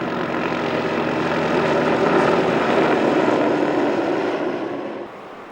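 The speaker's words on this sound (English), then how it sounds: "The helicopter has become indispensable, not only to set you into the heart of these areas, but to locate those lost and injured." Rotor and engine noise from a helicopter operating in remote bush country holds as a loud, steady roar at close range, swells a little midway, then drops off slightly near the end, with no speech.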